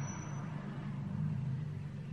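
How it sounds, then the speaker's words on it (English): A loud car passes outside a student's university accommodation, a low steady engine rumble that swells slightly midway through a short stretch with no talking. "There's a really loud car outside."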